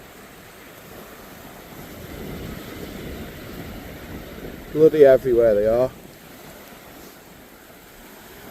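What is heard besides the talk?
wind blowing on an island coast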